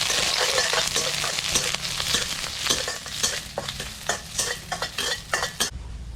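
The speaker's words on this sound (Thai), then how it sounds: "ตะไคร้ ใบมะกรูด ผัดเครื่องต้มยำให้หอมหมดเลย" Lemongrass and kaffir lime leaves stir-frying for tom yum paste: a steady hiss of sizzling oil with repeated scraping of a spatula in the pan, close and continuous, no talking.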